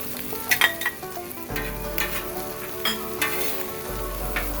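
Garlic and mushrooms sizzle beside potatoes for a breakfast hash on an outdoor grill, a steady bright hiss with a few clattering scrapes and knocks of a utensil up close.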